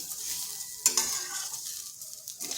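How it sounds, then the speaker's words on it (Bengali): Vermicelli (semai) being fried in a pan, with a soft continuous sizzle and occasional stirring scrapes, one sharper clatter near the start, no talking. "স্লো আছে সিমাইটাকেও বেশ কিছুক্ষণ ভেজে নিতে হবে।"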